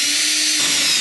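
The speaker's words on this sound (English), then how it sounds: "But now I can go ahead and drill," A power drill whirs steadily while boring through an aircraft part during an Affordaplane homebuilt build, a close, continuous high-pitched whine with a slight pitch shift midway, no talking.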